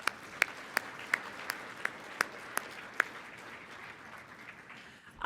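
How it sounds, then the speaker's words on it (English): Sparse clapping from a small audience after a keynote by Catherine D'Ignazio, a dozen distinct hand claps at an uneven rhythm over a soft bed of lighter applause that fades out. "Let's give one more round of applause to Catherine D'Ignazio."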